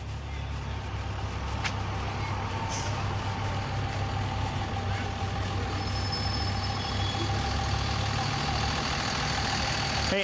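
A truck engine idles with a steady low rumble throughout, joined by a sharp hiss or clank and faint higher tones over a constant background.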